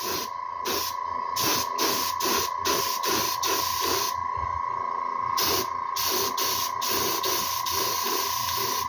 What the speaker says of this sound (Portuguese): O aerógrafo já tá na pressão máxima, mas ainda não tá passando a tinta direito